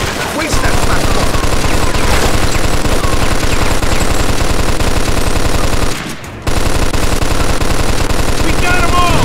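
Sustained, loud machine-gun fire in Mafia 2 as a gangster shootout hammers a raised platform, pounding almost without pause except for one short break, with voices shouting beneath the gunfire.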